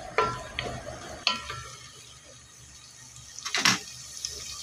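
Green chillies frying in oil for mutton pulao, a soft sizzle broken by a few sharp stirring scrapes and clinks of a spoon against the pan, close and fairly quiet with no talking.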